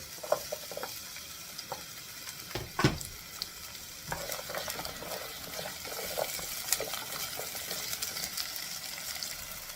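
Garlic and onion sautéing in olive oil in a pan, a continuous close sizzle with stirring scrapes and a few louder spatters, no voices over it.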